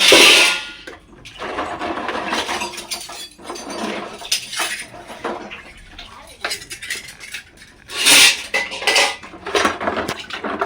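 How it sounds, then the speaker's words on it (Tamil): Ladles washed at a kitchen sink, with running water splashing and metal utensils clinking and clattering against each other and the basin, close and fairly loud, in irregular bursts. "வந்து கரண்டியை கழுவி கழுவி வச்சிடலாம்"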